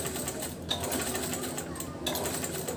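A sewing machine runs continuously while stitching a double katori blouse, a busy close whirring with brief pauses, and a bird calls faintly in the background.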